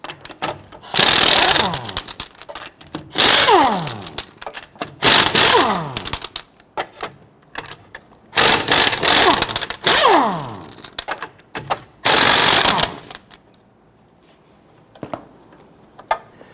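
Wheel lug nuts on a 2006-2014 Honda Ridgeline loosened and removed with a 22mm socket, loud repeated bursts of an impact wrench's rattling hammering, each lasting about a second, separated by short pauses.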